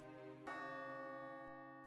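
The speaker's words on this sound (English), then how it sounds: "The bell tolled" A single tolling bell, marking an execution at a medieval castle, is struck once and rings on with a long, steady hum of overtones that slowly fades, heard clearly with no other sound.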